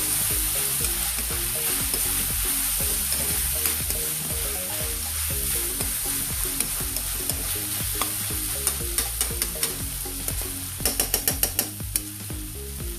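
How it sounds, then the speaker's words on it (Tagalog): Sautéed mung beans with black pepper sizzle steadily in a pan while a utener stirs them, producing a constant bright frying hiss with repeated scraping strokes that quicken into sharp clicks near the end. "At ating ulitong haluin."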